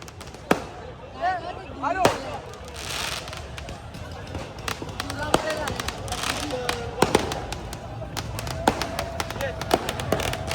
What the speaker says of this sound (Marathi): एवढे फटाके वाजवल्यात की आयफेल टॉवर पण आता दिसत नाही